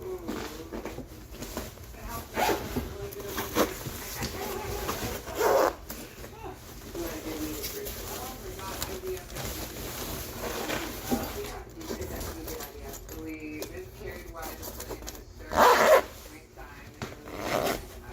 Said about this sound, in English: Zip it back.